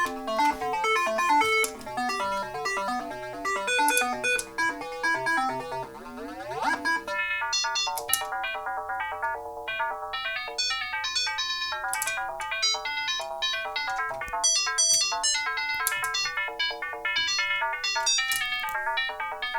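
Bright electronic synthesizer tones play a busy, bubbling melodic pattern with a rising sweep midway, steady and fairly loud with no voices.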